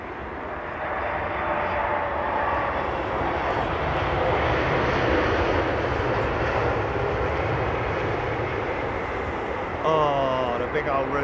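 A big Qantas jet airliner departs from runway 27R, its engines producing a loud, broad, continuous roar that holds steady for several seconds, with a brief voice near the end.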